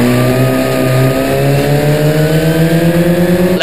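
Historic Formula Ford race cars scream past at Snetterton, loud engine notes rising steadily in pitch as they accelerate, close and continuous with no voices heard.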